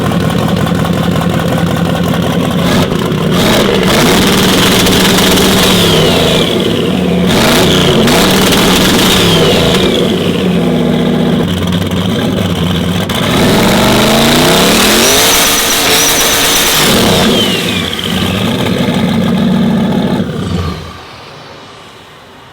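A twin-turbo burnout truck held on a two-step rev limiter, engine roaring loud and close with rapid popping and bursts of revving over about twenty seconds before cutting off near the end.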